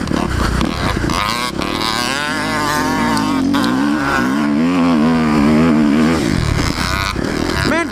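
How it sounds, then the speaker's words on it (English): A Kawasaki KX250F dirt bike engine screams on its rev limiter in fifth gear on an icy ride, a loud, close, sustained bouncing whine that holds and wavers before easing off. "This poor bike on the rev limiter."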